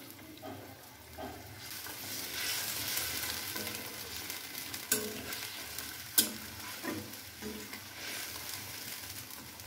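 A pan of fish curry with banana flower bubbles gently on the stove, a soft steady sizzle and simmer with occasional stirring scrapes and two sharp clinks, heard close and quiet with no talking.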